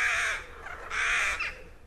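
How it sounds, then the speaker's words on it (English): Crow cawing: two harsh, drawn-out caws in succession, loud and near, with no other sounds. "A crow."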